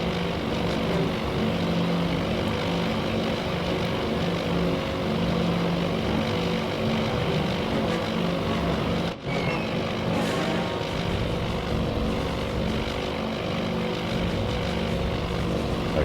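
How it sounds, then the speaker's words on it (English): A B-17 bomber's propeller engines drone steadily in the Task Force Admiral video game at the Battle of Midway, a continuous close, loud hum with one brief dropout midway. "The B-17's going back for more."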